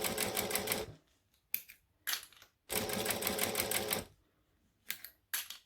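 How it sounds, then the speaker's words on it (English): A sewing machine runs slowly, stitching two fabric layers together in short bursts, each a steady rapid whir lasting about a second, separated by brief pauses and quick starts and stops. "So I'm just going really slowly to make sure that it doesn't move while I'm stitching it"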